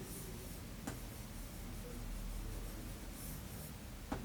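Faint, soft scratching of writing on a board in a grammar lesson, a low steady rubbing texture with a couple of brief taps, quiet and without talk.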